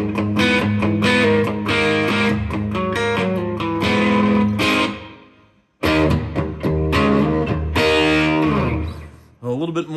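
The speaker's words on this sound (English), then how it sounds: "It's a very controllable distortion, because it's very feel and touch oriented, very much like playing through an old single channel tube amp." Electric guitar played through a distortion pedal that behaves like an old single-channel tube amp, loud sustained chords and riffs with a brief break midway, no voice over the playing.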